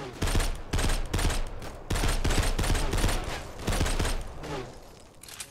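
Rapid bursts of assault rifle fire in a video game, loud and close, rattling in several clustered volleys with brief gaps between them.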